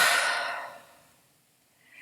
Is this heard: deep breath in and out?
yes